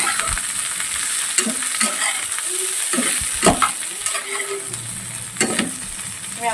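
Potato and okra pieces fry and get stirred in a pan, with close, loud sizzling and repeated scraping and clattering strokes at an irregular rhythm, no voices.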